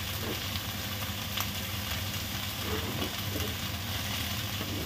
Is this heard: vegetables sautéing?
yes